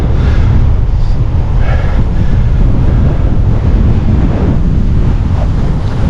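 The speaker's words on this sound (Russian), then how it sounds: "Ураган, просто ураган." Strong gusting wind buffets the microphone while cycling a long road route, a loud, constant low roar with no pauses and no speech over it.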